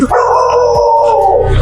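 A dog lets out a long, drawn-out howling bark after a doorbell rings, loud and close, holding its pitch for over a second before breaking off.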